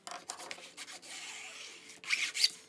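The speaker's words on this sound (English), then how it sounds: "I want to burnish this down and take care of any glue that is seeping out" Glued paper is burnished down onto an old book in a soft, close rubbing and scraping that runs in short strokes and then one longer steady pass, ending with a couple of brighter scratchy rubs.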